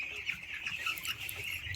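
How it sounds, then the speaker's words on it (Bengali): Fourteen-day-old poultry chicks at a small farm during feeding, a soft, continuous chorus of high cheeping and clucking from many birds close by, with no talking. "14 দিন বয়সের বাচ্চা,"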